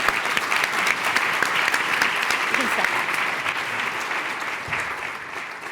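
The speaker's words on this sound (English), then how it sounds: "as we clap for our panelists" Audience applause for a panel of local leaders at a future-of-work event, sustained and loud throughout, with a voice briefly speaking over it.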